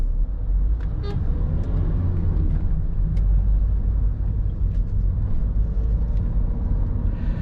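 A Fiat Doblo with a 1.6 Multijet diesel, 105 HP and 290 Nm, climbs a hill in a middle gear. Its engine gives a steady, loud, low drone heard from inside the cabin, with no talk.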